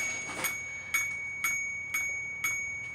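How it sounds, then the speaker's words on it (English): An American Flyer 759 model railroad crossing danger bell dings in a steady rhythm, about two strikes per second, each bright metallic ring decaying quickly, close and clear with no talk. "it starts the bell dinging and the lights flashing"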